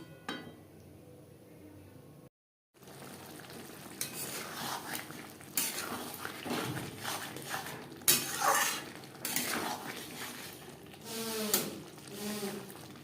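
Taro and tangra fish curry stirred in a pan over medium-high flame, repeated scraping and clanking of a spoon against the pan in irregular bursts, fairly close, after a brief silent gap at the start.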